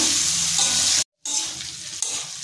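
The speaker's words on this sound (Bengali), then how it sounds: "এবার দিয়ে দিচ্ছি সজনে ডাঁটা। নাড়াচাড়া করে নেব।" Drumstick stems sizzle in a pan with chopped chilli as they are stirred, a bright continuous frying hiss with scraping movement, broken by a brief moment of silence before the sizzling resumes.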